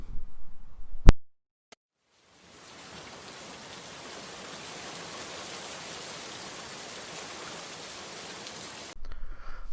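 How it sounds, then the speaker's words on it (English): Steady broadband rain hiss fills most of the clip, preceded by a sharp click and brief silence, then cut off abruptly near the end. "or even rain."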